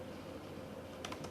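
Quiet keystrokes tap on a computer keyboard, with a brief cluster of clicks near the end over a steady background hiss.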